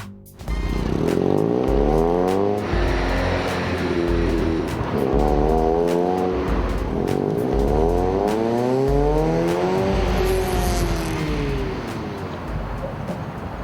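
A Mazda Roadster sports car driving hard, its engine heard close and loud as it revs up and drops repeatedly through several gear changes, with the pitch climbing and falling in waves.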